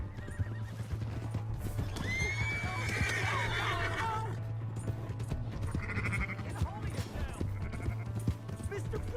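A horse whinnies loudly amid galloping hoofbeats and shouting voices in the video game Red Dead Redemption 2, with a steady low hum and background noise throughout.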